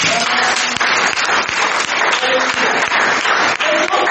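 A church congregation breaks into loud, sustained applause and cheering, dense clapping filling the space steadily from start to finish with no pauses.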